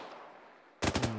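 Rapid automatic gunfire from the military shooter game Arma 3 bursts in after near silence, a loud close string of shots.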